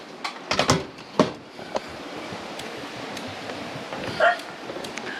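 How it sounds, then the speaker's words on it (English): A dog barks outdoors at a campsite beside Granite Creek in Alaska's Chugach area, several sharp barks in a quick cluster, another single bark, then a softer yip against background noise. "You're not supposed to be barking."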